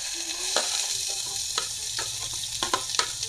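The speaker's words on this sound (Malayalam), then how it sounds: "സവോളയും പച്ചമുളകും ഒക്കെ കൂടെ ഒന്ന് വഴറ്റാം" Onions and green chillies sauté in hot oil for a beetroot curry, a steady close sizzle broken by several sharp scrapes and clinks of a spoon stirring the pan.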